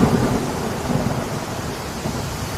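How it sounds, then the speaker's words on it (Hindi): Heavy rain pours steadily in a rural storm scene, a dense continuous wash with low rumbling thunder underneath, close and loud throughout with no voices. "भारी बारिश चालू हो जाती है।"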